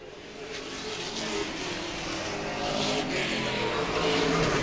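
Race cars on an oval speedway during the final lap, producing a loud, sustained engine roar that swells as cars pass, with faint tire noise underneath and no clear talk.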